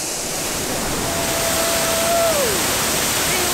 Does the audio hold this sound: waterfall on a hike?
yes